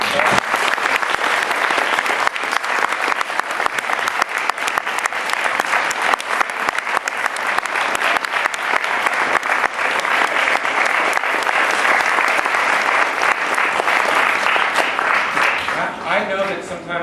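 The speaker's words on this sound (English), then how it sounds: "I just have to give you one more round of applause." An audience bursts into sustained applause at a Martin Luther King Jr. Day celebration after a play, dense hand-clapping filling the room loudly for over fifteen seconds before thinning out at the close.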